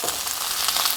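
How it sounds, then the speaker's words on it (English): Onion and red bell pepper pieces sauté in a hot skillet, giving a steady, close, bright sizzle with crackling spatter and no voices. "let these saute together in the skillet"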